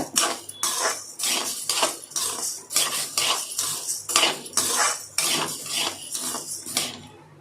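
Urad dal dry-roasting in a pan while being stirred, a rapid series of loud rattling scrapes and metallic clinks from a spoon against the pan, steady and close.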